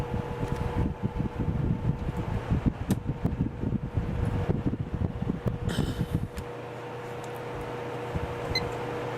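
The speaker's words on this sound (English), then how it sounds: "I'm not going to be able to run this fan on high when it's on this, but it can only run on low on this thing." A small electric fan runs on its low setting, powered by a cheap inverter, giving a steady close-up hum with a constant tone and gusty airflow rustle that settles into a smoother drone partway through.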